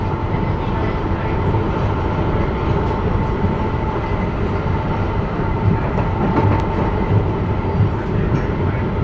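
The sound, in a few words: MBTA Green Line two-car train riding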